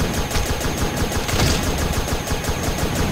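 Rapid gunfire in the creature battle game Animal Revolt Battle Simulator, a steady run of evenly spaced loud shots with no pause, close and dense throughout, with no voices.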